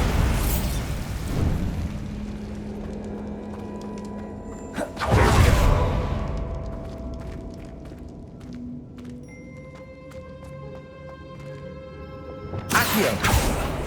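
Bombarda spell blast in Hogwarts Legacy, a loud booming burst with a whooshing rush, preceded by an earlier whoosh and followed by ringing magical tones and another sharp burst near the end.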